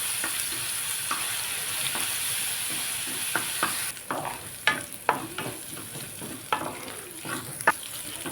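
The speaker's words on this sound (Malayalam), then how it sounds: "എണ്ണ ചൂടായി നമുക്ക് ഇഞ്ചി വെളുത്തുള്ളി പേസ്റ്റ് ഇടുവാണ് അത് നന്നായിട്ട് മൂത്ത് വരണം" Ginger garlic paste frying in hot oil for an egg curry, giving a steady hiss with scattered crackles and scrapes of stirring, close and moderate.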